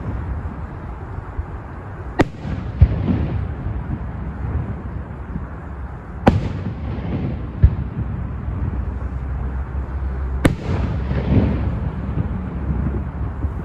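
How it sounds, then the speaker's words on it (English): Three sharp, booming bursts of Christmas fireworks spaced several seconds apart, each followed by crackling and fading rumble over a steady low background noise at a winter carp-fishing spot. "How about that for a free fireworks display?"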